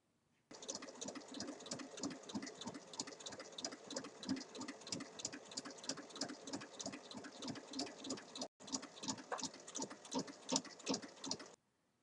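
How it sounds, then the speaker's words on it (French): Sewing machine topstitching a fabric multi-pocket bag: a fast, even, close needle chatter that runs steadily, breaks off for a split second, then resumes until stopping, with no talking. "on va juste venir faire une surpiqûre au-dessus de celle-ci et au-dessus de celle-là."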